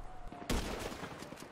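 Gunfire in GTA Online: a sharp loud shot bursts in abruptly after a quieter start, followed by sustained rattling fusillade noise for the remaining second, with faint talk underneath.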